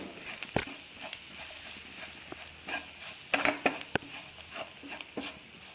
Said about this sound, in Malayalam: സവാള ബാക്കി ഇൻഗ്രീഡിയൻസ് മിക്സിൻ്റെ കൂടെ ഈ പൊടികളും കൂടി ചേർത്ത് നന്നായിട്ടൊന്ന് മിക്സ് ചെയ്തെടുക്കണം